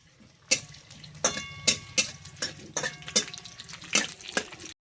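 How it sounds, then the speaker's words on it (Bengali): Whole cumin and nigella seeds fry in hot oil with a soft sizzle, punctuated by a series of sharp, close clinks and scrapes from stirring in the pan. "ফোড়নটা ভাজা হয়ে গেছে"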